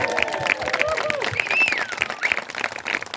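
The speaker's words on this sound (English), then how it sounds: "So one more big cheer for Eisenhower 5th graders." A school assembly audience, with elementary fifth graders among them, cheering and clapping in a busy wash of applause and shouts, with high-pitched yells and voices mixed through the continuous, fairly close crowd noise.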